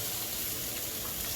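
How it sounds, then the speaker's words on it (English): Beef cheeks browning in a pan over high heat give off a dense, steady sizzle, loud and close with no break, and nobody talks over it. "So right here on high heat, I'm browning the beef cheeks."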